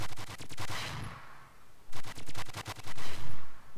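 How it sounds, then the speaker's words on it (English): Gunfire in Fallout: New Vegas, modded, comes in two rapid bursts of loud, evenly spaced shots, the first fading out after about a second and the second starting near the two-second mark, with no talk over it. "Why are you shooting at JT?"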